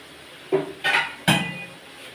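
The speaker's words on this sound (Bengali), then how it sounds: "এবারে আমটারে এই তেল দিয়ে এই আমটাকে নাড়ছি" A spoon scraping and knocking against a pan while mango pieces are stirred in hot oil, three distinct metallic clinks spaced about a third of a second apart, close by.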